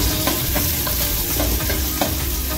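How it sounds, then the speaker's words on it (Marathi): Onion with green chillies stirred and sautéed in hot oil for masala rice, a dense, loud, continuous sizzle with soft scraping strokes of the spoon breaking through every half second or so. "छान असं परतून घ्यायचा कांदा आपल्याला."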